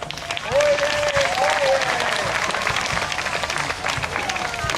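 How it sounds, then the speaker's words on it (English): A crowd at a competition applauds steadily, a dense wash of clapping that swells and holds, with a voice briefly audible over it near the start. "a round of applause for yourselves."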